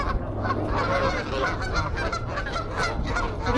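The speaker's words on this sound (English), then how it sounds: "I think the geese are having street fights here." Geese honk in a noisy flock on the frozen Harlem Meer in Central Park in winter, with overlapping squabbling calls continuing steadily throughout, close and busy.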